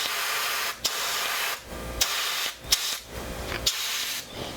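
Pearlescent red paint sprayed from an airbrush onto a handmade minnow wake bait lure, a steady close hiss broken by several short pauses and sharp clicks as the trigger is released.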